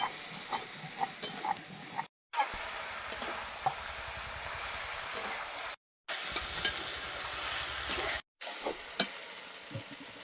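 Vegetables sautéing in a hot pan for a fish curry, with steady broadband sizzling and occasional stirring scrapes, briefly cut to silence three times.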